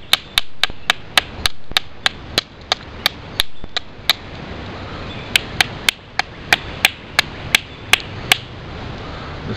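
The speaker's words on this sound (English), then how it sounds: "This hammer stone ain't so great." A hammer stone strikes rock again and again while a Hoko knife is knapped, giving sharp, loud cracking hits at a quick, fairly regular pace with a short pause partway through, and no talk.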